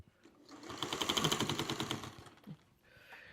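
A sewing machine runs in a quick, rapid burst of stitching as quilt blocks are joined, its needle clattering rhythmically at close range for about two seconds before stopping, with a faint clunk afterward.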